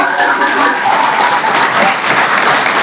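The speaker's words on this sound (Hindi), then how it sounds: "बहुत जोरदार ताली बजाओ।" An audience at a spiritual class claps loudly and continuously, a thick, even roar of applause from a large crowd with no pause.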